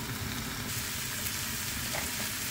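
Bok choy and French beans fry in a pan with a continuous, fairly faint sizzle and crackle, steady throughout without breaks, and no voices over it.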